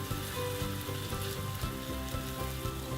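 Savoury pancake batter spooned into a hot frying pan sizzles steadily, a dense crackling hiss close by with no talk over it.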